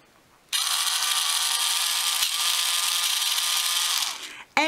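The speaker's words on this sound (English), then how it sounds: "a Shoal foot file, which is battery operated" A battery-operated Scholl foot file buzzes steadily for about four seconds, a close, loud, even motor whine that starts abruptly and then winds down, followed by a brief clunk.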